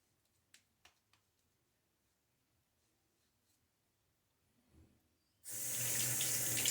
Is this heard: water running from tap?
yes